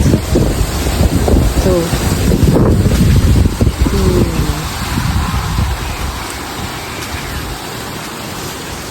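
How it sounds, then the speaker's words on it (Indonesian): Strong wind of about 33 knots buffets the microphone in loud, rumbling gusts, easing off toward the end, with a brief voice heard partway through. "Di hari ini anginnya kencang banget, sekitar 33 knots."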